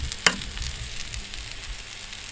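An egg fries in a pan over a firepit with a steady, soft, close sizzle and a single sharp crackle near the start.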